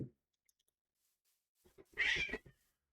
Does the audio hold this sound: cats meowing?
yes